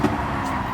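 Honda S2000 braking hard into a corner in Gran Turismo 7 at Grand Valley Highway, a steady loud engine and tyre drone held throughout a brief moment, with no talk.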